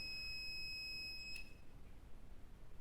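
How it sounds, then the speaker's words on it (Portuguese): An analog multimeter set to its continuity beep scale during calibration sounds a steady, high electronic tone for about a second and a half, which cuts off sharply. A faint room hush continues afterward. "Vou colocar meu multímetro analógico na escala do bip e vou dar uma calibrada nele aqui."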